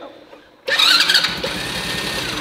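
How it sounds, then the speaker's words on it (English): A kids' ride-on toy tractor motor starts abruptly after a quiet half-second, rising to a brief loud whir before settling into a steady, close, rattling hum. "Can we turn our tractor on?"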